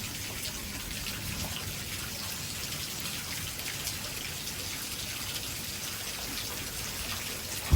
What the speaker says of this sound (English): I can't go under the cypress because it's raining way too hard.